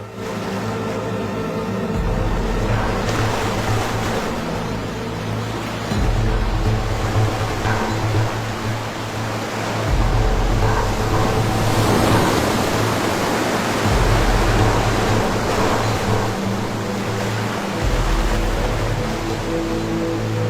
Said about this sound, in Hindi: लहरों का अक्सर एक नियमित पैटर्न होता है।